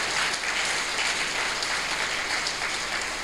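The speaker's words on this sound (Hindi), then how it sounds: "ऐसी मरी मरी ताली बजाते हैं आप लोग" A seated audience claps in a steady, dense wash of applause that continues evenly without pause, moderately loud and without voices.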